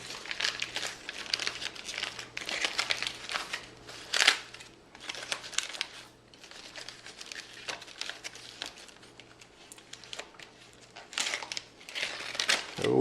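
Aluminum foil wrapping is peeled open from fish cooked over an open fire, giving a steady run of close crinkling and crumpling with sharper crackly bursts, alone with no talk.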